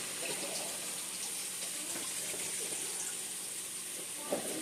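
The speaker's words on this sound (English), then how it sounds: "I'm going to go ahead and drain my my carrots and my potatoes" Cooked carrots and potatoes being drained for a homemade beef stew, with a steady rush of water pouring out in the sink, continuous and fairly close, ending with a small clunk.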